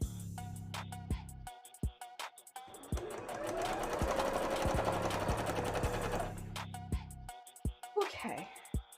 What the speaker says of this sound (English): start sewing this in